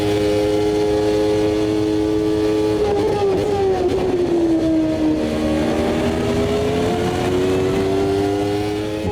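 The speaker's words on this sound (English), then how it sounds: "Finally, you can hear that V10 screeching in front of us." A V10 Formula 1 car from a 1993 season mod in the Automobilista 2 racing game screams loudly just ahead, its high engine note sustained and shifting pitch as it revs up and down through gears.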